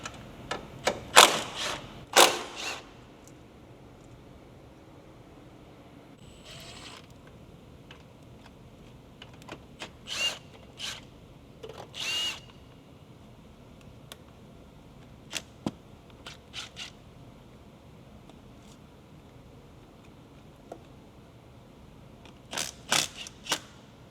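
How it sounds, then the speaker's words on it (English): Wrench and fastener work while a strut bar and battery come out of a 2024 Acura Integra Type S: sparse metallic clicks, ticks and light clanks in short bursts, close by, with quiet gaps between. "First, I'm gonna have to go ahead and take off my strut bar here and get the battery out."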